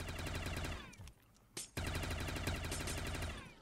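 Continuous rapid automatic gunfire in Call of Duty Zombies, a steady buzzing stream of shots that briefly drops out, returns with a sharp burst, then resumes at full intensity.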